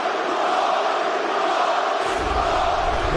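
Arena crowd at an MMA fight between Joaquin Buckley and Nursulton Ruziboev, a dense, loud, continuous roar of cheering that swells with added low rumble partway through.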